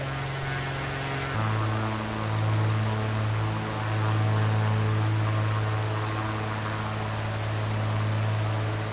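Steady, loud drone of an airliner cabin during the approach to Osaka airport, a constant low engine hum with broadband rush that shifts slightly in pitch after the first second, with no voices.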